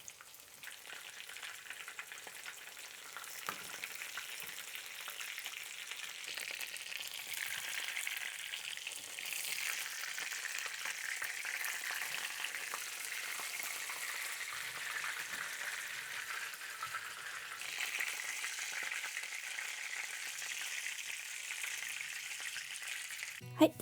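A chicken breast Milanese-style cutlet fries in oil over medium heat, giving a soft, continuous hissing sizzle at moderate level throughout, with faint crackles and no talk.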